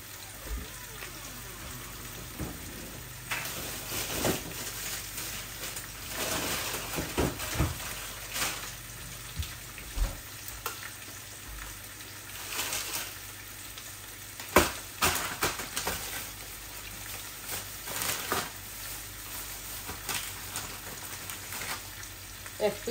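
Frozen tilapia fish fries in oil with a steady sizzle broken by bursts of crackling and spatter, plus occasional clinks and stirring noises over a long stretch.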